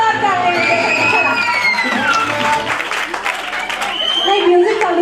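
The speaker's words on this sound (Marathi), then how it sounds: "एक नंबर जोरदार टाळ्या." A crowd at a Marathi birthday celebration game-show event claps and cheers steadily and loudly, with shouting voices and music running under the applause.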